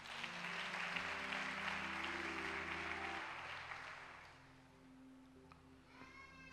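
A church congregation at a French-language worship service claps and cheers for Jesus Christ, a dense wash of applause that swells and then gradually fades, with sustained music tones underneath.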